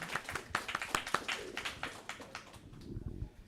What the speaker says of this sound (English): please give an applause for